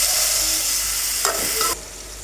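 Onion and tomato sautéing in a pan for a jackfruit white kurma, giving a steady close sizzle with a few soft stirring scrapes before the sound drops away near the end.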